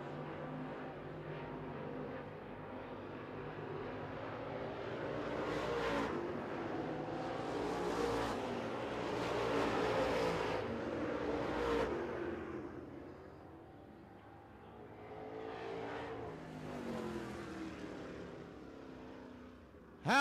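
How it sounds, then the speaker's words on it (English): UCRA late model race cars at Smoky Mountain Speedway roar through the back straightaway and into turns 3 and 4 on the final lap, engine noise swelling and fading with the passing pack, loud and continuous with no talk. "Down the back straightaway one final time and into 3 and 4."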